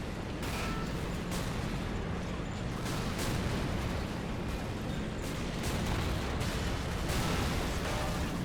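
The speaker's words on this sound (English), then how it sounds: "Look at the Russian tanks and infantry advancing across the open. Shooting, stopping, taking fire." Russian tanks and infantry advance across open ground in an Arma Eastern Front battle with a realism mod, producing a dense, continuous roar of cannon and small-arms fire with scattered distant booms and no pauses.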